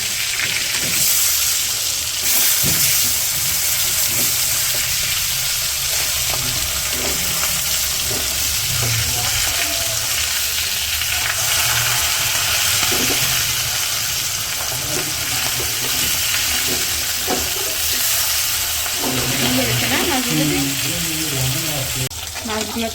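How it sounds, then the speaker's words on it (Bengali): Fish fry in a pan in a village kitchen, sizzling loud and continuous, with occasional scrapes and clinks from stirring. "মাছগুলো তো ভাজা শেষ মনে হচ্ছে"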